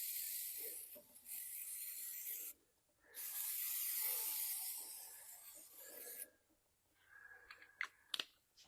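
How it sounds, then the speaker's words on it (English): Short hissing bursts of aerosol brake cleaner sprayed onto a part of a 1969 Dodge Super Bee, close and fairly loud, one long spray with a brief gap and a few quieter spurts after. "give it a little shot of brake clean"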